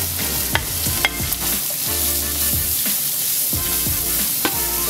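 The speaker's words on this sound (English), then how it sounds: "This is when we're going to add our onions until they're nice and soft." Onions frying with browned pancetta in a pan for spaghetti carbonara, a steady close sizzle broken by repeated scraping stirs of a utensil against the pan, with no talking.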